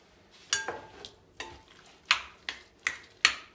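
A spoon stirs a thick frittelle batter with ham mixed in, making a run of scraping, clicking strokes that come every half second or so, close and moderately loud, with no talking.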